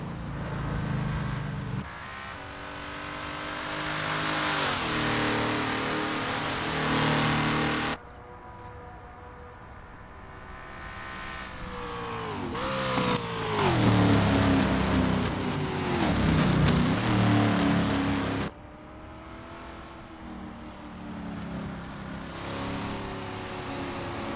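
A Lola T70 MKI race car lapping Interlagos in Assetto Corsa, its engine a sustained rising and falling drone that cuts sharply at gear changes, loud and alone with no talk.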